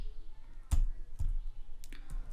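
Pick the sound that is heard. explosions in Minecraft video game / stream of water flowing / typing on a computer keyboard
typing on a computer keyboard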